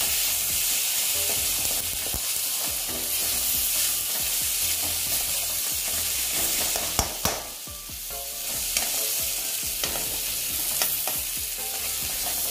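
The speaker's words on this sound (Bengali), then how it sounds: "টমেটোর যে একটা জল থাকবে ওটা দিয়ে আমি মশলাটা কষিয়ে নিচ্ছি" Ground spice masala frying in its own tomato juices for egg curry, a loud continuous sizzle with a few sharp scrapes of stirring partway through, no voices.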